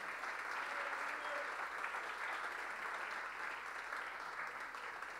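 Audience at a state music composition award ceremony applauds steadily, a continuous even wash of clapping held at moderate level with no break for the whole span.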